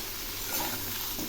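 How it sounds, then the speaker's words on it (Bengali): Potatoes and pointed gourd fry together with onions in a pan, a steady soft sizzle with faint stirring scrapes running evenly throughout, no voices. "একসঙ্গে এগুলি ভেজে নিচ্ছি।"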